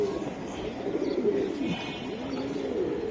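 Giribaj pigeons, a large male among them, coo in low, rolling calls that repeat steadily at close range over a faint background hum, with no talking.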